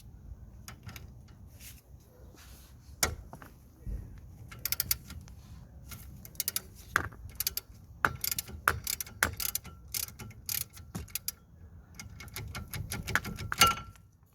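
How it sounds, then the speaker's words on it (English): Ratchet loosening the brake clamp bolts on a Toyota Yaris front wheel, rapid clicking bursts in uneven spurts, close and clear over a quiet workshop background, with no talking. "next we're going to remove the two bolts to remove the clamp so that we can release the disc"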